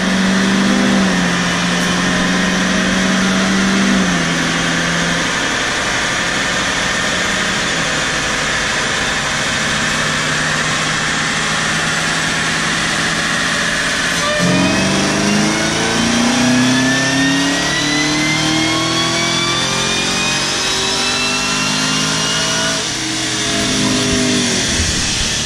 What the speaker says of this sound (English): You can already hear that blower.